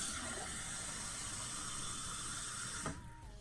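Water pours steadily into a drinking glass in one continuous, fairly loud stream that stops abruptly near the end, leaving a quiet room.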